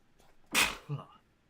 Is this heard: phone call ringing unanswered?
no